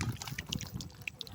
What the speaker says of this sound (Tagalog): Hugas tayo dito sa gripo.